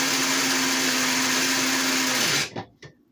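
An electric grinder whirs steadily at high speed as it grinds toasted hazelnuts, then cuts off and the motor spins down, leaving a couple of faint knocks in the quiet.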